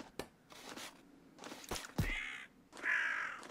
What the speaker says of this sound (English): Go away, bird. No one likes you.